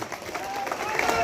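A crowd at an outdoor political rally applauds in a dense, continuous wash of clapping while someone speaks over it.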